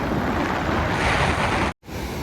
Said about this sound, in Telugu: చూడండి ఏ విధంగా ఉందో వలసంపేట జలపాతం